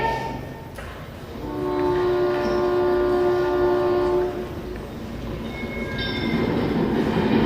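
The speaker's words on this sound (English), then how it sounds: "Here comes the train!" Train arriving with a sustained tonal horn blast followed by softer rail rumble and a second faint horn note, at moderate distance with no talk.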